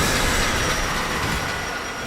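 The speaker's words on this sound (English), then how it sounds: "The next train is arriving." A subway train in the video game Warframe rumbles loudly into the station, a steady roar of rolling wheels and carriages that slowly eases off, with no speech.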